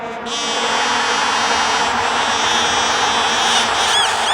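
Someone blows a wooden novelty noisemaker in one long, loud, buzzing drone that holds steady for several seconds, close up and alone.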